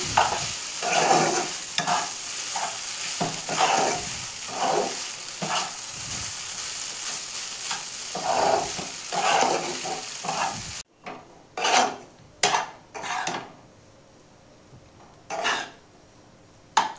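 Maggi masala frying and being stirred in a pan for a Maggi puri filling: a steady close sizzle with repeated scraping stirs, which drops away partway through to quieter, intermittent stirring scrapes.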